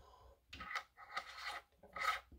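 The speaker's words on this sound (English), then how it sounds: "The last thing we're going to do is put our magazine cap back on." Magazine cap being screwed back onto a Mossberg SA-20 shotgun, close rasping metal-on-metal scrapes in three or four short twisting strokes, quiet with no voices.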